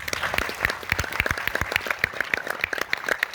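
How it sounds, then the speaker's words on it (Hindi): An audience at a motivational talk in India claps in a scattered, crisp patter of individual hand claps that rises and dips without a break, fairly close and with no speech over it. "ताली बजा लो"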